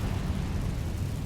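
A fire spell cast in Hogwarts Legacy: a short, loud, dense burst of roaring flame with a heavy low rumble that stays steady from start to finish, with no voice over it.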